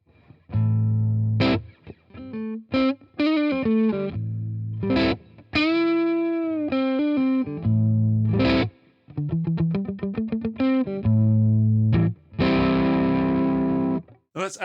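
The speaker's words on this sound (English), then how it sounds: "Let's put a bit of reverb on as well." Overdriven electric guitar through a Boss Katana amp with reverb, strummed chords and quick riffs ringing out loud and close, notes trailing off into a soft wash.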